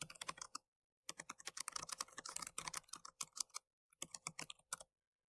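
Typing on a computer keyboard while a Scratch program is being built, with rapid bursts of clicking keystrokes broken by brief pauses, close and clear and with no talking.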